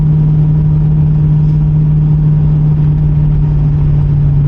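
A 1977 Camaro Z28 engine idling with a deep, steady low rumble, loud and close, holding an even tone without voices.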